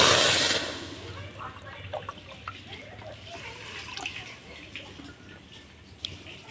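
Water is poured into a pan holding sugar and cracked cardamom pods to make syrup, with a brief loud splash at the start trailing into soft trickling and faint drips.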